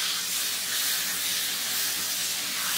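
Eggplant and eggs sizzle in a hot pan while being stirred, a steady close bright hiss and crackle running without pause and with no talk.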